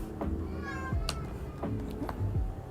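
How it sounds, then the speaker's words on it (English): Several cats in a warm indoor room give a few short meows and chirps over a steady fan-like background hum. "there are 3 cats in this room"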